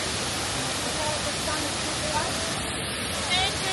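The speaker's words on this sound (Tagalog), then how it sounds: "Waterfall." Shifen Waterfall in Taiwan pours with a dense, constant rushing roar that fills the whole span, while faint crowd voices murmur underneath.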